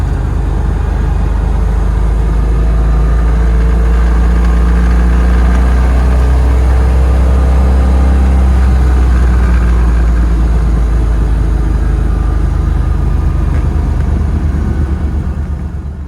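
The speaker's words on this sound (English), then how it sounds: "You might be able to hear the rumble." A deep, steady V8 rumble from a C4 Corvette with an LT1 engine, cruising around 2,500 RPM in fifth gear, fills the whole stretch, loud and close, with a slight rise and fall in the drone.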